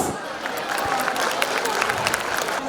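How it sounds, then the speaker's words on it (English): Warm, continuous clapping from the crowd at a preprimary school annual function, applauding the young performers, with a faint murmur of voices beneath the dense patter. "Please appreciate the performers with a heartfelt applause."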